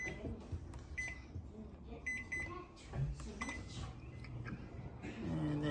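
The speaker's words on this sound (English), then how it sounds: "Ready to go in the dirty microwave." A dirty microwave oven running a seven-minute steam-cleaning cycle with a bowl of water inside, a faint steady hum under kitchen clinks and a few soft beeps, fairly quiet throughout.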